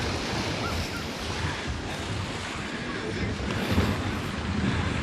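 Waves wash continuously onto the beach at Rimini, Italy, a broad steady surf with wind buffeting the microphone and no voices.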